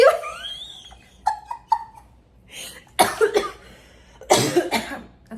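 Several coughs in bursts, close and fairly loud, with short gaps and faint breathy vocal sounds between them.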